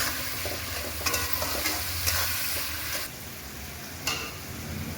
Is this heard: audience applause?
no